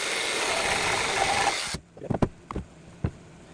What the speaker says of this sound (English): I'm going to cut off these corners right here.